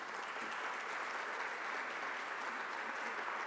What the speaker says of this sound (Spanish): les pido un aplauso para la maestra María Elena antes de iniciar